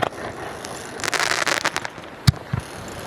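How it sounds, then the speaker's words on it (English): Fireworks bursting in the background on a Florida beach during a night of land-based shark fishing, a run of sharp cracks and crackling pops, one louder bang near the end, with no voices. "With all the fireworks in the background?"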